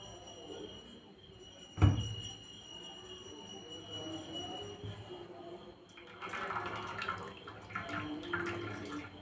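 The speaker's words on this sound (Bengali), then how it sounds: "জল দিয়ে ভালো করে আরও ছানাটাকে ধুয়ে নেব" Freshly made chhana cheese is rinsed with water in a cotton cloth, a soft running-water wash close by, marked by one sharp knock early on and a fuller pouring stretch toward the end.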